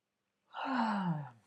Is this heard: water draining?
no